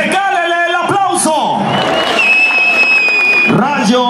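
A crowd at a rodeo arena in Pedernales cheers, whoops and claps, with an announcer's amplified voice talking over the noise and loud excited shouts rising toward the end.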